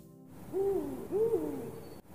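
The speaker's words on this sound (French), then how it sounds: "Le hibou commença à crier" An owl gives two clear, drawn-out hoots in a row, close and alone against a quiet background.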